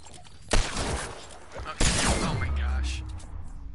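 Video game gunfire bursts out in two loud volleys, sharp cracks followed by a rumbling low tail, with faint game ambience between them.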